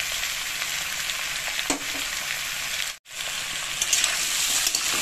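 Potatoes fry with salt and turmeric in hot oil, giving a steady, close sizzle with faint stirring clicks and a brief break in the middle.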